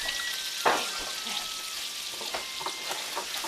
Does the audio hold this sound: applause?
no